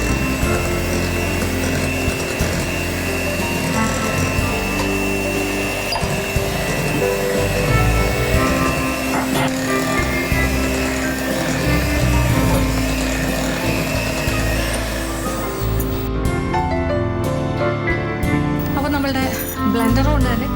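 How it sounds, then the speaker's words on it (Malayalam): Hand blender beating flour into cake batter, a steady loud motor whine running continuously under a voice speaking Malayalam throughout. "ബ്ലെൻഡർ കൊണ്ട് തന്നെ ആ മാവ് ചേർത്തിട്ട് ജസ്റ്റ് ഒന്ന് മിക്സ് ആവുന്നവരെ ഒന്ന് ബീറ്റ് ചെയ്യും."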